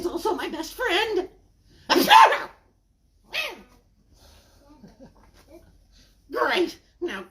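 A storyteller acts out a sneeze during a children's story time, a sharp vocal burst between stretches of expressive narration, close and clear.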